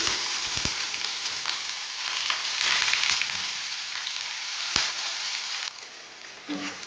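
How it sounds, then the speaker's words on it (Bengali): Chopped onion frying in hot mustard oil gives a loud, steady, close sizzling hiss with a couple of faint knocks and a slight drop in intensity toward the end. "তেলটা ভালোভাবে গরম হয়ে গেছে, এবার এর মধ্যে অল্প পরিমাণ পেঁয়াজ কুচি দেবো"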